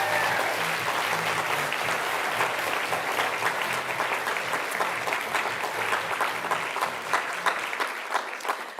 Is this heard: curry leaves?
no